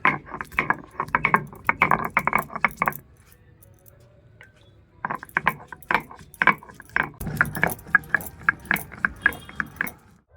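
Whole cumin and warm spices such as cinnamon and cloves ground on a grinding stone, giving close, rhythmic bursts of gritty scraping and knocking, with a quiet pause in the middle before the strokes resume.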